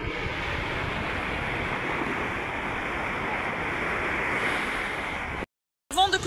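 Ocean waves wash in on the shore in a continuous loud surf roar mixed with wind buffeting the microphone, broken by a sudden cut to silence and a short burst of noise at the end.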